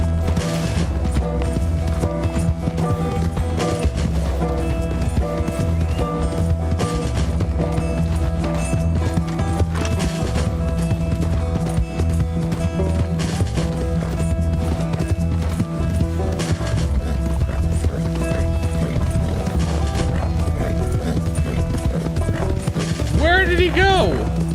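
Steady galloping hoofbeats from a horse run continuously under a dense, constant game soundtrack, with a short high whinny near the end.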